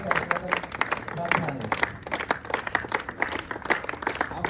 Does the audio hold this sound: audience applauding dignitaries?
yes